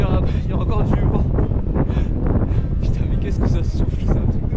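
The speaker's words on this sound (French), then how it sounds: "Qu'est-ce que ça souffle, c'est un truc de ouf." Strong wind roars across a mountain ridge in the Pyrenees during a paragliding traverse, buffeting the microphone with a loud, continuous, gusty rush from start to finish.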